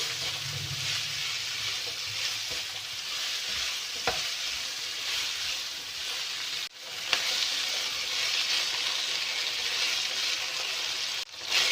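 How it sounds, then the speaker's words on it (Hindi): Vegetables sautéing in a pan with crushed red chillies, black pepper, chicken powder and salt, a steady loud sizzle with stirring scrapes running throughout and a couple of brief clatters. "इनको वेजिटेबल्स को सौते करेंगे। थोड़ी देर कुक करेंगे।"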